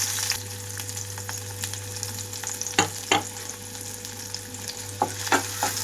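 Onions and green chillies fry in oil with a cut bay leaf over a medium flame for egg biryani, a steady close sizzle broken by several louder stirring scrapes.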